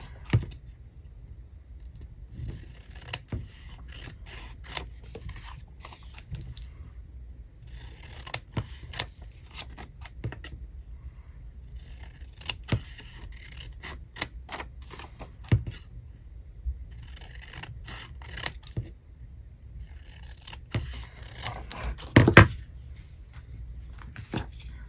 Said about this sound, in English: I think I'm going to cut right onto this line here.